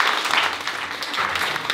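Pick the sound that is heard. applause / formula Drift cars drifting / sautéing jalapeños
applause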